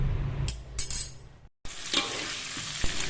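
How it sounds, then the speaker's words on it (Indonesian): Tofu and beef liver frying in a pan, with a steady close sizzle, a few stirring scrapes and clinks, and a brief full drop to silence partway through. "lagi goreng tahu sama ati lembu ya, ataupun ati sapi"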